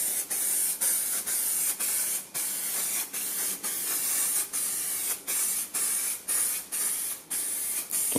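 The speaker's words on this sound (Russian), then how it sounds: "И будем распылять, наверное, наполовину." An aerosol can sprays onto the plastic trim of a Lada Kalina in a series of about a dozen short, loud hissing bursts separated by brief pauses, close up and without talk.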